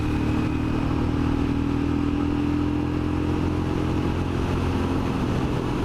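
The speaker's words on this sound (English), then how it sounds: "I get that hammering noise, like a jackhammering noise, but mixed with a rattle, like nuts and bolts in a tin can" A Royal Enfield Scram motorcycle engine running in third gear, a steady droning engine note with a constant hammering rattle and clatter underneath, loud and unbroken throughout.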